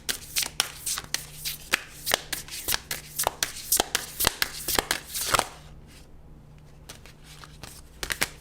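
Tarot cards being shuffled by hand, a crisp rhythmic run of riffling snaps close to the mic for several seconds, then a brief lull before a few more scattered card slaps.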